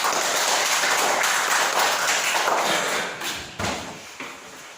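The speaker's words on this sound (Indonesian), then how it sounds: "Tepuk tangan untuk kelompok 2." A classroom of students applauds a student group after a presentation, a dense wash of many hands clapping at close range that holds steady, then thins out and fades into scattered final claps.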